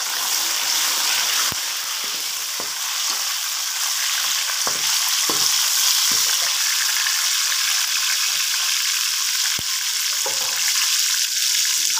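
Loud, continuous sizzling of tomatoes added to browned onions frying in a hot pan, with occasional clinks and stirring sounds as they are moved around.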